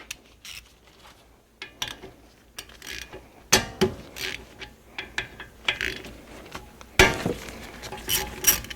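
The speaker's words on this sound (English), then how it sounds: "So now I'm gonna undo the caliper bolts." Brake caliper bolts on a Honda Accord are undone with a ratchet: irregular close clicks and metallic clinks, growing busier and louder partway through, with no talk.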